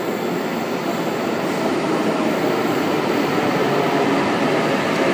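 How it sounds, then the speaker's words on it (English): A Sydney Trains Oscar set pulling into the platform at Town Hall station, a loud continuous underground rumble and roar of wheels and motors that fills the whole stretch without a break. "Oscar arriving on platform 4."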